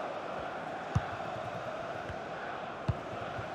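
Liverpool fans in a FIFA football match between Liverpool FC and Fulham make a steady, distant crowd roar, with a couple of faint thumps over the even wash of noise.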